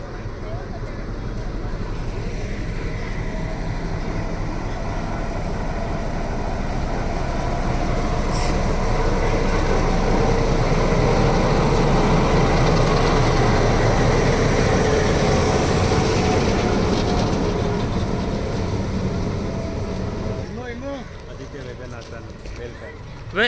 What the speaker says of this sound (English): Marwad Mavli passenger is departing and our loco is about to reverse on the same line.